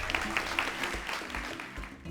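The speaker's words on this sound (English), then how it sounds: "Round of applause." An audience at the Business Agility Conference in South Africa applauds in a short burst of scattered clapping, fairly soft, with some voices mixed in.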